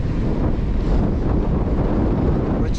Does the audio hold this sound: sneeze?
no